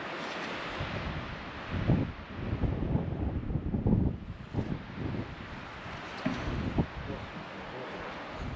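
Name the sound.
strong wind buffeting the microphone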